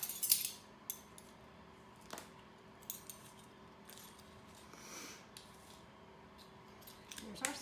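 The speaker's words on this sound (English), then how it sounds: "let me mix these eggs in" A utensil stirs eggs in a bowl, making sparse, faint metallic clinks and taps scattered across a quiet room.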